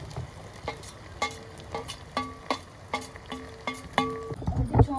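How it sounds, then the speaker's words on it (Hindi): Chillies drop into a hot tempering of fenugreek, onion and garlic for Navratri fasting chips, with a low sizzle under rhythmic squeaky scraping of a stirring spoon and a clatter near the end. "और भी अब डाल देते हैं ये मिर्च।"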